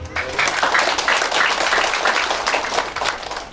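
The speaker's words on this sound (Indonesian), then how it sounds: "memberikan tepuk tangan bagi kedua anak kekasih kita" A wedding congregation claps steadily for a few seconds, a dense patter of hands at moderate volume with faint voices mixed in.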